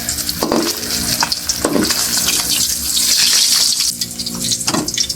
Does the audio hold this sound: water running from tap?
yes